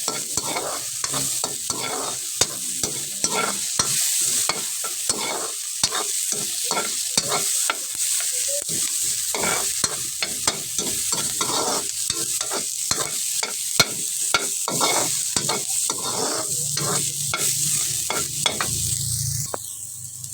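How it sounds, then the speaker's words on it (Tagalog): Mussel dish base browning in a pan, a steady bright sizzle of frying with frequent scraping stirs throughout, close and fairly loud, no voices. "igisa natin hanggang maging kulay brown"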